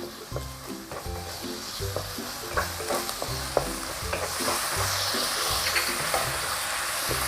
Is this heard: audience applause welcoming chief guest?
no